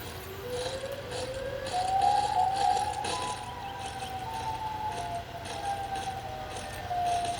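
Siren Head's wailing siren in a video game, a faint rising and falling electronic siren tone that drifts and repeats over low background rumble.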